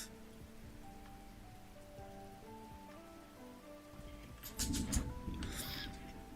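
Faint, steady rain patters under a soft tonal background, with a brief louder splash and rustle near the end.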